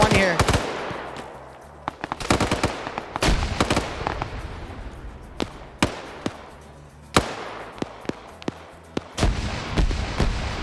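Rapid bursts of machine gun fire in a military shooter game, with sharp, loud cracks in clusters and single shots spread across the whole stretch, mixed with rumbling battle noise and occasional voice.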